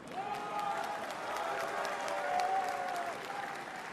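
A large indoor crowd at a French political rally in the Zénith arena in Lille claps steadily, a dense wash of applause that stays even throughout, with a faint voice trailing through it.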